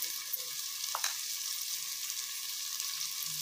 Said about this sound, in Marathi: आता आपण हे भाजून घेऊया